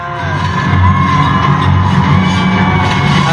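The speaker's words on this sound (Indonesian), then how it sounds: "Teriakan histeris minta tolong dan meminta ampun terus diucapkan oleh semua orang yang" Dense, loud wall of many people screaming and wailing hysterically, pleading for help and mercy in hell, continuous and chaotic throughout with no clear individual voice.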